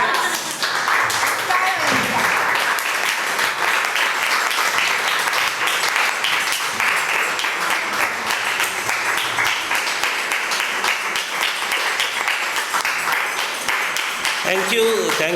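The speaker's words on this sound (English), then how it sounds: "a big standing ovation and applause for, say, 10 minutes" Sustained audience applause during a standing ovation at a lecture event, dense steady clapping that stays loud throughout, with a voice briefly heard near the end.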